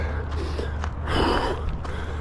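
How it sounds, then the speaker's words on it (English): Heavy, exhausted breathing from a person out in the bushes by a river at a BMX spot, a few loud gasping breaths and exhales close to the microphone over steady outdoor background noise. "my breathing is heavy."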